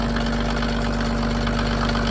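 A Mercedes OM603 diesel engine idling while driving a new PN40 motor pump, a loud, steady diesel clatter with a constant low hum and a fine rhythmic knock, close and unbroken.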